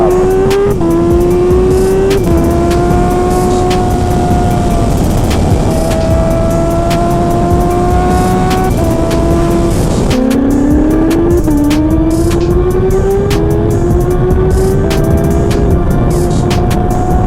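Loud motorcycle engines, a Kawasaki ZX6R and Ninja H2, rev and accelerate in repeated rising whines, pitch climbing and dropping as gears shift, close and sustained throughout.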